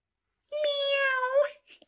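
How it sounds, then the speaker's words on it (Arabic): A single drawn-out cat meow, lasting about a second, is heard close and clear against silence during a comic classroom roll-call sketch. "بسه مياو"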